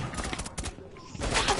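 Gunfire in Rainbow Six Siege, a burst of shots with sharp broadband cracks early on, a brief lull, then a denser loud volley near the end, with voices nearby.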